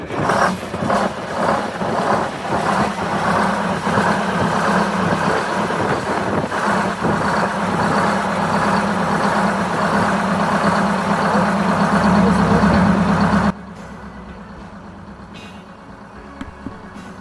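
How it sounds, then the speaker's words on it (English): A 1964 GM PD-4106 bus, started on one good battery, catches quickly and settles into a loud, rumbling diesel idle with steady low throbbing, close by, before the sound cuts away to a quieter background. "The bus started with one good battery."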